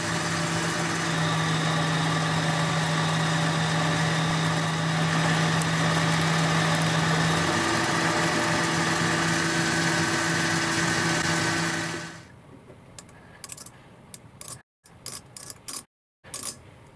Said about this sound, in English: so I'll bore this out to 1-inch.